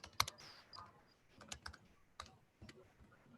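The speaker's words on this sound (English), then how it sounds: "Sorry for the clicking." Quiet computer keyboard typing: scattered, irregular key clicks and taps at close range during an online class session, with no talk over them.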